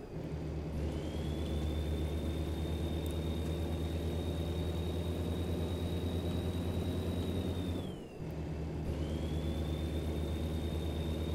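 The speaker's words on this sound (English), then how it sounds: "Now it really sounds like a real truck, doesn't it?" A truck engine idles in American Truck Simulator, a steady low rumble with a constant high whine above it, briefly dipping once before settling back to the same even drone.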